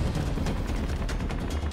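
Gunfire in Call of Duty Modern Warfare 3, rapid bursts of shots cracking one after another in a busy, continuous exchange.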